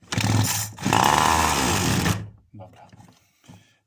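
A small two-stroke engine from a brush cutter buzzes loudly with a high, rasping drone for about two seconds on its first start, then cuts out, leaving faint scattered noises.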